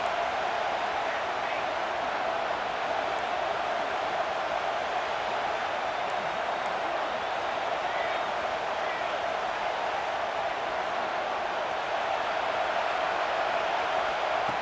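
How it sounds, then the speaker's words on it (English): Stadium crowd in a college football video game, Florida State versus LSU, a loud, constant roar that fills the whole stretch without letting up. "listen to this crowd noise. This stadium is vibrating."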